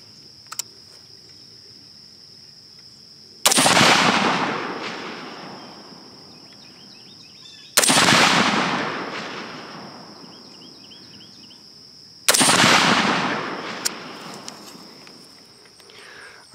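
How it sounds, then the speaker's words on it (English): Rifle shots fired at a 50-yard target on an outdoor range, three loud sharp reports spaced several seconds apart, each followed by a long fading echo, with a faint insect hum in between. "let me go ahead and take a few more shots here at 50 just to make sure I'm comfortable with it"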